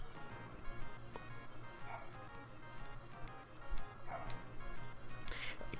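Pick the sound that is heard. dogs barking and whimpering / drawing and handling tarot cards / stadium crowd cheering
dogs barking and whimpering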